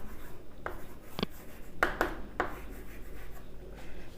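Writing on a board or paper: a few scratchy pen or chalk strokes in short bursts, close and fairly quiet, with pauses between them.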